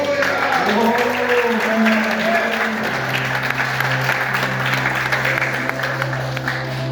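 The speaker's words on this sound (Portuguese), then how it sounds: "Os homens deveriam dar uma salva de palmas para as mulheres aí." A church congregation breaks into sustained applause for the women, a dense wash of clapping that carries steadily through the whole stretch, with a low tonal hum and some voices mixed underneath.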